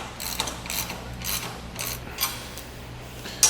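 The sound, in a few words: ratchet wrench tightening bolts with 9/16 socket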